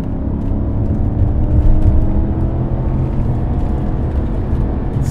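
A 1993 Mercedes 500E V8 revving hard in second gear, heard from inside the car as a loud, steady, dense engine roar with road rumble that holds throughout without a break.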